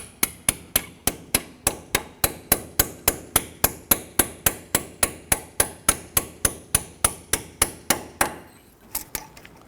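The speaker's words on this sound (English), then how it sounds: "I'm just using a punch here to fit through." Steady metal-on-metal tapping of a hammer on a punch driving out a front brake pad retainer clip on a 2006-2010 Hummer H3, about thirty evenly spaced close strikes, then a few lighter knocks.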